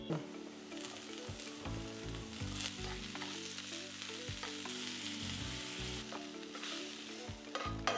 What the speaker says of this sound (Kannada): ಆನಿಯನ್ ಮತ್ತು ಕ್ಯಾಪ್ಸಿಕಮ್ನ ಪೆಪ್ಪರ್ ಮತ್ತು ಸಾಲ್ಟ್ ಹಾಕಿ ಫ್ರೈ ಮಾಡೋದನ್ನ ಫೈತಾ ವೆಜೀಸ್ ಅಂತಾರೆ.